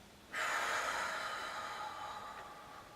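A person exhaling during a core and pelvic-floor breathing exercise, one sudden forceful breath out through the nose or mouth, close and airy, trailing off gradually over a couple of seconds.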